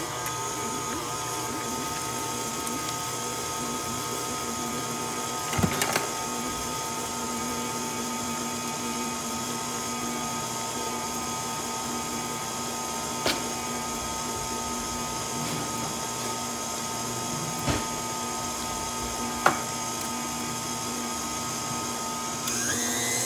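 An electric mixer beats hot chocolate cookie dough with a steady, even high whine that runs throughout, broken by a few brief knocks as the beaters touch the bowl.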